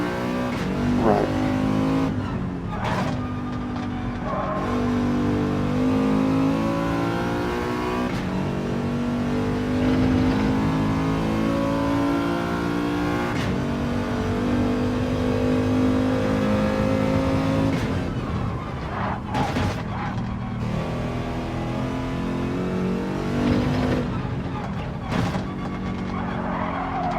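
Race cars in the video game Gran Turismo 7 roar steadily, their engines rising and falling in pitch as they accelerate and shift, with occasional tyre skids, loud and continuous throughout.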